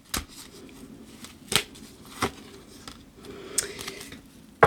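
A deck of cards being cut and drawn during a tarot-style reading, heard as a few sharp, separate card snaps and slaps over a quiet room hum, close and fairly soft, with no talking.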